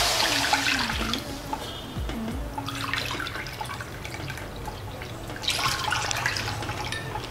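Water pours steadily into a pan to make dough for carrot modakam, a continuous near splashing and gurgling stream that runs for several seconds, with no voices.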